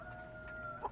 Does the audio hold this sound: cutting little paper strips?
no